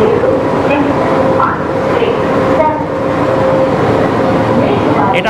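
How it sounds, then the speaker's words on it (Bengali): Nilgiri Mountain Railway toy train pulling into the Ooty station platform, a continuous loud rumble of wheels on rails with a sustained tonal squeal and clatter, close by. "দেখতে দেখতে আমাদের ট্রেন চলে আসলো প্ল্যাটফর্মে।"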